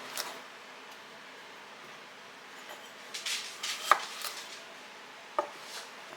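Small potatoes cut with a knife, likely on a board, a few soft scattered chops and taps without a steady rhythm, fairly quiet and close by with no talking.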